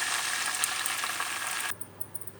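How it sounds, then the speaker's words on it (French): Tomatoes poured into a pan of grilled garlic for an Indian-style tomato chutney set off a loud, dense hiss that holds steady, then drops suddenly to a quiet, faint bubbling sizzle. "je vais commencer à verser les tomates dedans"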